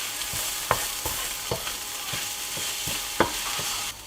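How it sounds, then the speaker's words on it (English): Spoon stirring bacon jam with paprika and pepper in a hot pan, soft sizzle throughout with several sharp scrapes and taps against the pan, close and without talk. "And then we give that a very good stir so that everything has a nice coating."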